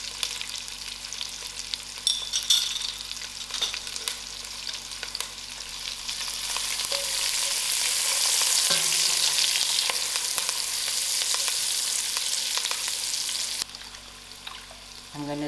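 Masala spices frying in hot oil with curry leaf and thyme for a wedding-style dhal, a steady close sizzle that swells louder midway, with occasional stirring scrapes.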